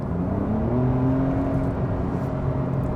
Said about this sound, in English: Yes, you do get some turbo sound.